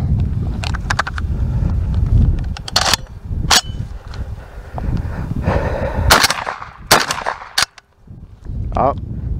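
A JTS MK12 shotgun on gas setting one fires a quick string of shells outdoors, with sharp loud reports in irregular bursts over wind noise and light handling sounds.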